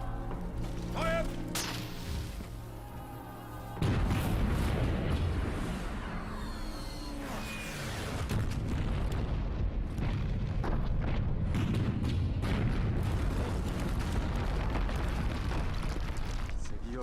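Artillery bombardment of a wood on a battlefield, with a dense, continuous roar of booming blasts and rumbling impacts that grows louder partway through and stays heavy. Music and shouted voices sit faintly beneath it.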